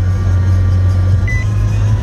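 A car started with push-button start settles into a steady, low engine idle hum that runs unbroken and fairly loud throughout, with no other sounds.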